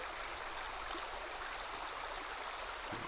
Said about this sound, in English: First water crossing, so there's water in the creek